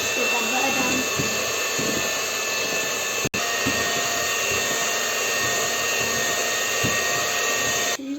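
An electric mixer beats butter for classic sugar cookies, a loud steady whirring drone with intermittent thumps and a brief dropout midway, running throughout the clip.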